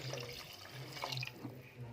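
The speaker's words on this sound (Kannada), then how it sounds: "3 ಕಪ್ ಅಷ್ಟು ನೀರು ಹಾಕ್ತಿದ್ದೀನಿ ಇಲ್ಲಿ ನಾನು." Water is poured into a cooking pot while making tomato bath, a steady, soft, close splashing stream lasting the whole moment without any talking.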